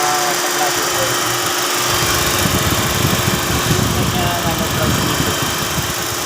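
A 2017 Chevrolet Sonic engine runs at idle in a repair shop during transmission fluid work, a steady mechanical hum and vibration with someone talking over it.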